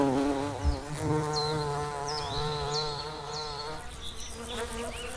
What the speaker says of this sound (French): Les abeilles les plus précoces de l'année s'activent dès la fin de l'hiver, quand les premières fleurs apparaissent.